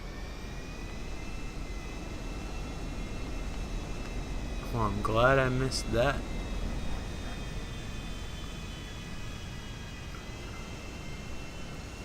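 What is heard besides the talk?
jet aircraft flying in Grand Theft Auto V video game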